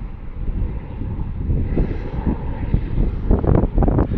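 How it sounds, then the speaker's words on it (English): Helicopter landing at the Portland airport helipad, heard as a rumbling, wind-buffeted rotor and engine roar that swells and pulses louder toward the end, with no talk over it. "This is a helicopter landing at"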